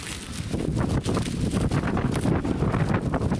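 Gusty wind roars and thumps against the microphone in uneven bursts, close and loud throughout.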